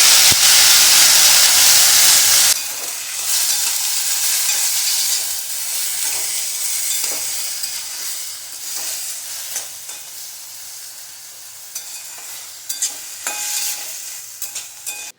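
Millet is tipped into a hot tempering of mustard seeds, cumin, curry leaves, chillies and coriander and stirred, starting with a loud hissing burst that settles into a softer sizzle with intermittent scraping clicks of the spoon.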